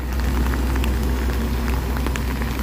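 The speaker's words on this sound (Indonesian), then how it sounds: "Hujan." Heavy rain during a storm on a mountain train journey, heard close and loud: a dense, continuous patter of drops over a deep steady rumble, with no speech.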